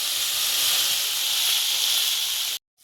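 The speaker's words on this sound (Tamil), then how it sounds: "வெங்காயம் நல்லா பொன்னிறமாக வணக்கணுங்க. தக்காளி நல்லா வணங்கிடணும்." Onions and tomatoes sizzling in a hot pan for kothu parotta, a bright continuous frying hiss, close and steady, cutting off abruptly near the end.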